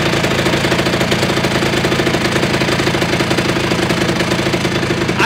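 A scooter engine revs hard on a rolling-road dyno, its rear tyre at 3 bar and the machine thought to make about 18 hp; a loud, continuous, dense mechanical roar with rapid pulsing that holds steady throughout.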